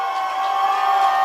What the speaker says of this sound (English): Hawks crowd starting to make some noise.